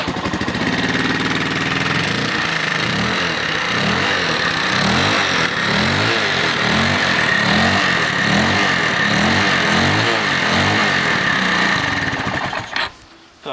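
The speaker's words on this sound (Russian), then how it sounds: "все увидели, да, что двигатель вращается нормально, раскручивается, но колесо не вращается" A 150cc Irbis Nirvana scooter with a broken drive belt runs loud and close, its engine buzzing and revving steadily while the rear wheel stays still, then cutting off abruptly at the end.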